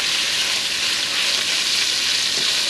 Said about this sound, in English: So we're going to give the bacon a little stir again.